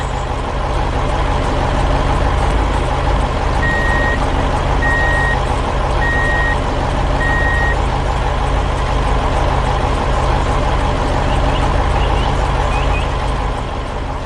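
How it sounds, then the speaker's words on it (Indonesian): Loaded dump truck hauling dirt from a river excavation, its engine rumbling steadily while four evenly spaced reversing beeps sound over the noise, with faint chirps late in the clip. "Truk itu melaju dengan mantap, membawa beban berat kembali ke arah jalan tadi."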